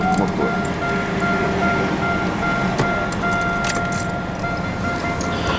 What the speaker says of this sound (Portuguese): Desligar ele, vamos ficar aquele barulho do motor.